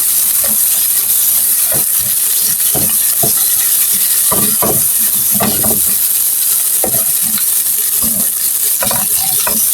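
Taki fish fries lightly in oil with a constant close hiss of sizzling, broken by scattered clicks and scrapes of stirring at an uneven rhythm, with no voices.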